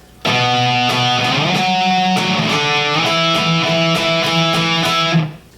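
An electric guitar rings out a sustained, distorted passage from a song, chords shifting steadily over about five seconds before cutting off, played alone and up close.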